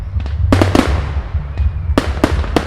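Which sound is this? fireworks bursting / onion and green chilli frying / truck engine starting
fireworks bursting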